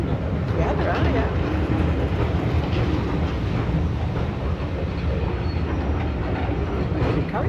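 A long passing train with many carriages rolls by in a continuous, loud, broadband rumble that holds steady throughout, with faint rhythmic clatter of wheels and voices chatting underneath.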